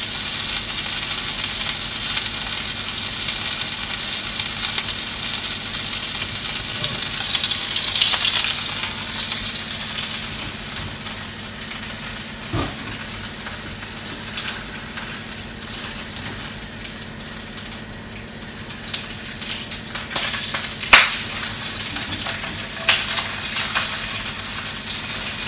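Lemon sole fries in hot fat with a loud, dense sizzle that gradually settles, broken by occasional sharp pops and spits and a few clanks of a utensil near the end.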